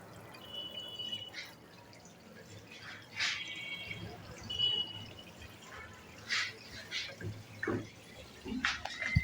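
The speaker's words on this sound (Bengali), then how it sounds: "এখন এই আউটলাইনটা বন্ধ করে রাখছি, এখন কিন্তু পানি জমতেছে" Water runs into a sink with its drain outlet closed, collecting in the basin; faint intermittent drips and trickles come in short bursts against a quiet background.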